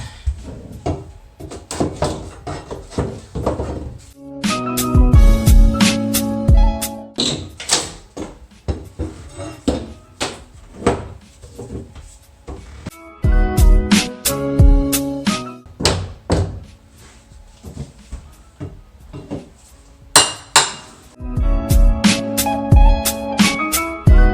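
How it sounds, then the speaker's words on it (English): Baseboard being pried and pulled off in a mobile home bathroom during a remodel, heard as repeated close wooden thunks, knocks and cracking bursts with short pauses between them. "Going to remove some baseboard."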